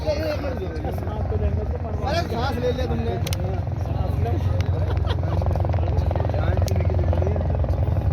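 Two helicopters approach a mountain helipad on the Kedarnath pilgrimage route, a steady loud rotor and engine drone running throughout while people talk over it.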